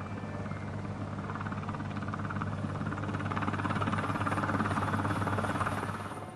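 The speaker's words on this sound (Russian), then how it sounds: "после показа финальных титров можно услышать звуки приближающегося вертолета." A helicopter approaches after the closing credits of the game Wolfenstein: The New Order, its rotor thrumming steadily and growing louder before easing slightly at the end.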